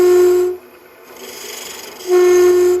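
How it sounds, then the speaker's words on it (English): A 3/8 inch spindle gouge cuts into a wooden goblet spinning on a lathe, a loud steady tonal whine with a harsh scraping edge that drops away in the middle, then returns strongly near the end. "I find this is the best way to hollow this, by going in with the spindle gouge and then drawing the tip and the edge out."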